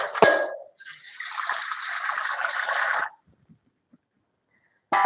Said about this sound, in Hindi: अब मैं लेती हूँ दूसरा पानी, इसमें धोऊंगी गोभी को